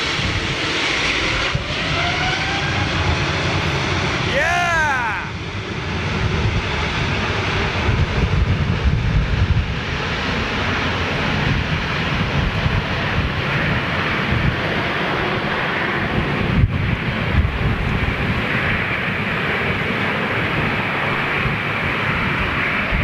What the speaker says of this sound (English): Getting a lot of blast from it. XWB engines, man.